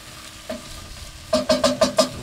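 Mushrooms sizzle in a pan on a Kamado Joe grill while a utensil stirs them, giving one scrape and then a quick run of five rhythmic scraping strokes over the steady frying hiss.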